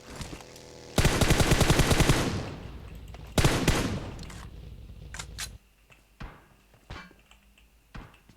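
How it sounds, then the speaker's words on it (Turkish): Automatic gunfire in the mobile battle-royale game PUBG Mobile, aimed at a vehicle. Two long, loud rapid bursts are followed by scattered single shots and quieter cracks. "Başka biri de sıkıyor sanırım araca."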